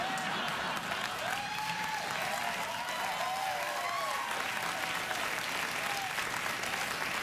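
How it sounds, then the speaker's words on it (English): A late-night talk show studio audience applauds steadily and loudly for several seconds, a dense continuous clapping with a few scattered cheers mixed in. "You better applaud."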